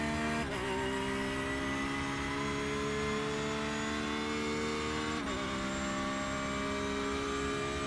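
Porsche GT3R race car engine in iRacing at Road Atlanta, a sustained high-pitched drone held steadily with two brief shifts, steady and fairly quiet throughout.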